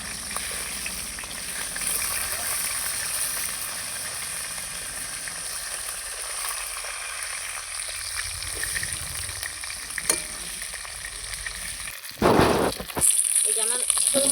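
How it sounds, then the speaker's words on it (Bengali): Snakehead fish heads fry in hot oil in a pan, a close, steady crackling sizzle throughout, with a brief louder spatter and clatter near the end. "লাল লাল করে কি সুন্দর করে ভেজে নিচ্ছি"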